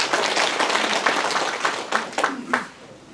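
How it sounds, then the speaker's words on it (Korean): Audience applause at a county government meeting in Geumsan, filling a hall with dense clapping that swells in a few bursts before thinning out near the end. "박수 좀 쳐주세요."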